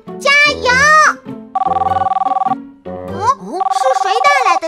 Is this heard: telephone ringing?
yes